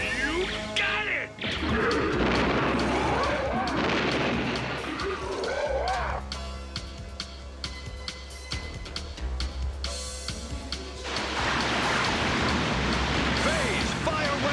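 Cartoon battle sound effects from an animated dinosaur-and-commandos show: repeated loud blasts, crashes and gunfire-like bursts with heavy low rumble, continuing nearly throughout with a brief lull around the middle.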